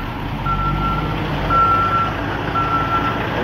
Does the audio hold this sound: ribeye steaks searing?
no